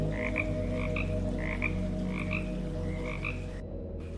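A tiny, rare European wetland frog croaks in short repeated bursts, about six evenly spaced calls, close and clear over a steady low hum of background noise, with no voices.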